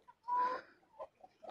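Hens clucking on a home farm as a mother hen leads her chicks to roost on a rainy evening; a short close burst of clucking is followed by a few softer, scattered clucks.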